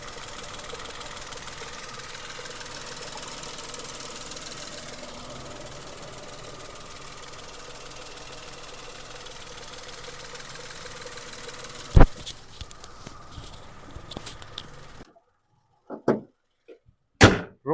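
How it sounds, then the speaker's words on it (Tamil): A 2016 Maruti Suzuki Wagon R engine idles with a steady, rumbling knock for several seconds, then cuts off, leaving a few sharp clicks and thumps. "இன்ஜினோட நாய்ஸ் நான் உங்களுக்கு மைக்கு பக்கத்தில் வச்சு எப்படி இருக்குன்றதை காட்டுறேன்"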